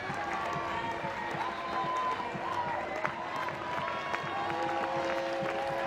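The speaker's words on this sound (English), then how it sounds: "Crowd rises to their feet." At an NCAA college softball game between UCF and Florida, a large crowd claps and cheers in a steady, sustained wash of noise that sounds fairly distant.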